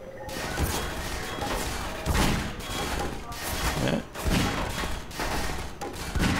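Gunfire in the video game Half-Life 2: dense, continuous bursts of rapid shots with heavy thumps and crashes, loud throughout with no talking.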